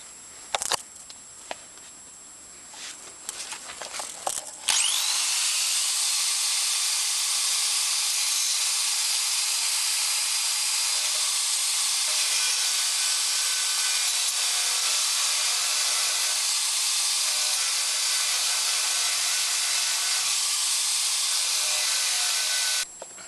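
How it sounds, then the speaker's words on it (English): An angle grinder works on a cast iron casting from an American Pacemaker lathe, grinding a flat mounting spot: after a few quiet seconds of small clatter it spins up into a loud, steady high-pitched whine that runs unbroken to the end. "The angle grinder proved a better tool for this job."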